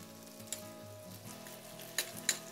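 Minced garlic, grated ginger and Thai chilies sizzle quietly in oil in a pan, a faint hiss under a low hum, with a few sharp pops and clicks near the end.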